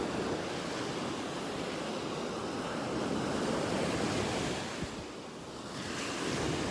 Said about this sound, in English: Loving these waves here.